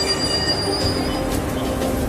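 A train rolls nearby with a high, sustained wheel squeal over a dense rumbling hiss, continuous for the whole stretch, no voices.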